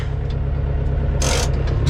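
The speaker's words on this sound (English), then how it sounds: "And you can hear it running." A tractor engine running low on diesel, heard up close as a steady low rumble throughout, with a brief burst of hissy noise about two-thirds of the way in.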